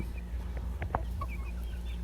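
Chickens on a farm in Bien Unido, free-ranging birds about three months old, cluck in a few short calls against a steady low background hum, with no voices.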